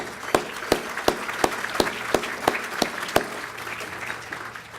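A handful of sharp, evenly spaced claps ring out over a soft background murmur, slow and deliberate rather than a full burst of applause.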